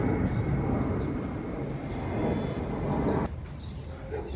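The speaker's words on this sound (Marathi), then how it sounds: "कार्गो विमान आहे. इथे बाजूलाच एअरपोर्ट आहे." Cargo airplane flying near an airport in a mountain area on the route to Khardung La pass, a steady broad roar heard from a distance that cuts off sharply near the end.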